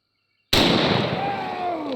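A 4 bore rifle, a huge shoulder-fired gun, goes off in one sudden, very loud blast after a moment of silence, then a long rumbling echo that slowly fades out.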